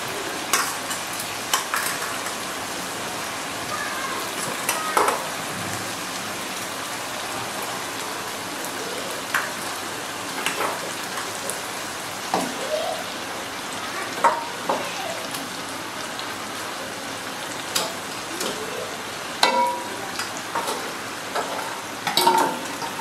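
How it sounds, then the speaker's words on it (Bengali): Beef trotters for Bangladeshi nihari sautéed in a thick spice masala, with a steady crackling sizzle and repeated scraping stirs of a spoon against the pot, close and moderately loud, with no voices. "নিহারিগুলোকে একটু কষিয়ে নেব।"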